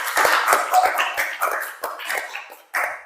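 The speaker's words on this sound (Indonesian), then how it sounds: "Beri tepuk tangannya yang luar biasa." A classroom group claps in scattered, uneven bursts, a sparse patter of individual hand claps that thins out across a few seconds.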